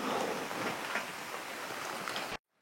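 Steady broadband rain hiss at night during a paranormal investigation of a dark manor, continuous and fairly close, then cutting off abruptly near the end.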